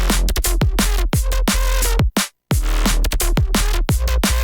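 A fast, busy electronic hi-hat pattern ticks over a steady drum beat, cutting out briefly near the middle before the groove resumes.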